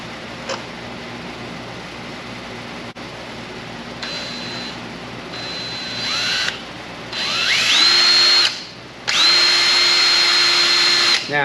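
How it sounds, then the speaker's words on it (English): Power drill boring out a broken bolt on a Dodge Power Wagon 440 block, stepping up to a 5/16 bit; the motor whines in bursts that rise in pitch and grow louder toward the end, with steady background noise between runs. "Now, about to drill this one out."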